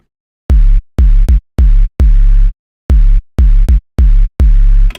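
A synthesized bass from a sound design session plays a series of short, heavy low notes with sharp attacks, separated by silent gaps. It is loud and dry, with a buzzy, rough texture.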